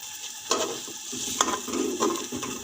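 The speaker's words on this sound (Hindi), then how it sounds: "देख सकते हैं आप, चावल ऐड कर लिए। इसे मिक्स कर लेते हैं" Rice is stirred into boiling water in a cooking pot, giving several scraping, bubbling stirs over a steady hiss of simmering, with sharper clinks of the spoon against the pot.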